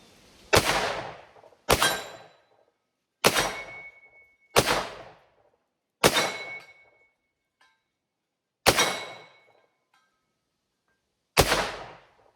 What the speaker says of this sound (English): Boy, that 10 millimeter hits that steel target hard.